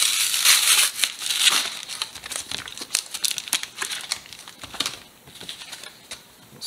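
Six Pokémon Sun and Moon trading card booster packs being torn open, with bright crinkling foil and paper tearing in quick irregular bursts close by, no talking.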